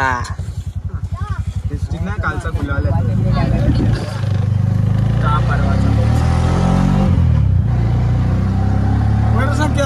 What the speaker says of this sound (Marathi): चला आता आपली चालली रिक्षा.